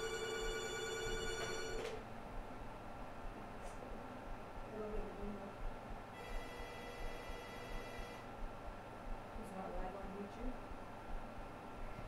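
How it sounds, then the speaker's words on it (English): A telephone bell rings with an incoming call during a televised bingo broadcast: two bursts of electronic trilling, one at the start and another a few seconds later, over faint background hum and low room noise. "Oh, another phone call."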